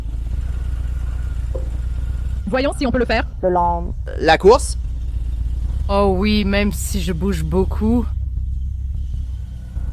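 A Harley-Davidson Breakout rides slowly around a parking lot, its low engine rumble running steadily underneath someone talking throughout.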